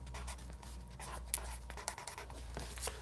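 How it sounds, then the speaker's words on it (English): Pen writing on paper while a car wheel sketch is drawn, a close scratchy series of short strokes and taps in irregular rhythm, heard alone. "I write for you here."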